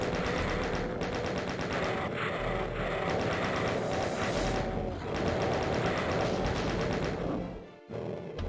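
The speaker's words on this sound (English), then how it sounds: "Then get the chain gun ready and get rid of all these enemies with it." Rapid sustained chain gun fire in the classic Doom shooter, a dense mechanical rattle of shots going steadily for several seconds before stopping abruptly, loud and close with game noise underneath.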